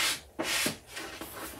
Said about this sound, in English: I have a sanding block that I got from the Dollar Tree. And I'm just going to go around the edges